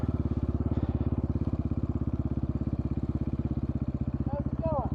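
A 2022 GPX FSE300R motorcycle engine pulls steadily while riding, a loud, close, rapid throbbing pulse that continues through the whole stretch with a short rise near the end.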